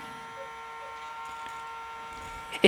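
Small fan in a working toy vacuum cleaner running steadily with a thin, even electric whir and faint buzz, ending in a brief knock.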